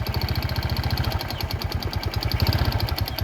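A motorcycle engine idling steadily close by after a total electrical blackout was repaired, a rapid even putter with a rhythmic low thump, heard alone without talking.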